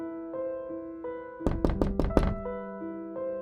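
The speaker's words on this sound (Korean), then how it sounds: "집 밖에서 누군가 우리 집 대문을 두드렸다" A front gate of a house is knocked on: one quick burst of four or five sharp raps close by, heard over a steady sustained musical tone.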